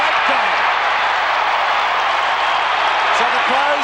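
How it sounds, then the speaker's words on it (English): A crowd at the MCG roaring and applauding after an Adelaide Crows goal in the 1993 AFL preliminary final against Essendon, a broad continuous wash of cheering with a commentator speaking over it. "They cheer in Adelaide and they cheer here at the MCG."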